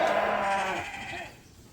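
A ram, a cross show sheep on a farm, gives one loud, close, wavering bleat that fades after about a second and a half, heard alone.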